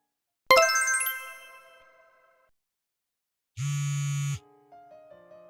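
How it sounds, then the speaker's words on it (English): A phone goes off with a bright tinkling chime that rings out and decays, then a loud sustained electronic tone, followed by a short run of melodic notes, with no talk. "Hurry up and pick up the phone."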